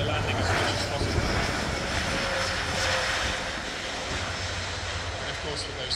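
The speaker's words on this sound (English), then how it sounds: "And of course, with those four engines in reverse thrust." A four-engine military transport aircraft landing at an air show with all engines in reverse thrust, a loud broad steady roar and drone that eases slightly later on, with a commentator talking over it.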